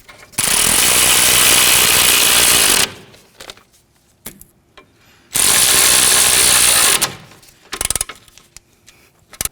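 A ratchet tightens the brake caliper bracket bolts on a 2013-2015 Subaru XV Crosstrek, two long bursts of rapid close clicking a few seconds apart, each followed by brief scattered clicks and quiet.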